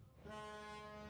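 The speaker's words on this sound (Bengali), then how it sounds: "তবে নিয়ম মেনে শুক্রবারও কমলাপুর থেকে বিভিন্ন রুটে ছেড়ে গেছে ট্রেন।" A train horn sounds faintly as a train departs Kamalapur railway station in Dhaka: a single steady, sustained tone held for about a second.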